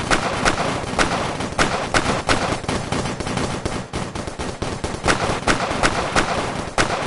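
Rapid gunfire in the CrisisVRigade PSVR cops-and-robbers game, a dense stream of sharp repeated shots with brief gaps, loud and close throughout.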